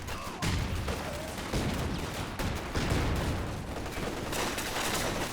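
Rocket barrage from a walking Stuka half-track in Company of Heroes 2, a dense run of overlapping blasts and crackling impacts that roars steadily loud for several seconds, with no voices.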